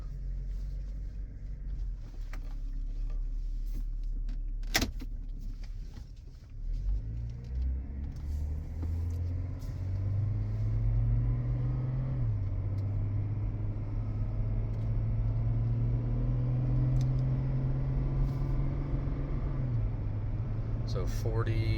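Interior cabin rumble of a GMC Envoy during brake bedding stops: low road and engine drone with a single thump, a dip as the vehicle slows, then a rising, steady engine hum as it accelerates.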